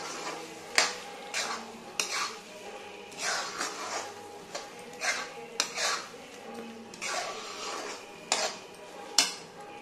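A spoon stirs eggplant and potato curry in a metal pan, giving repeated close clinks and scrapes in an irregular rhythm against a quiet kitchen background.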